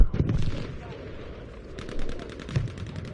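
Gunfire in the video game Frontlines, with shotgun blasts among several sharp reports: a couple of heavy booms near the start and end, with rapid bursts of shots in between.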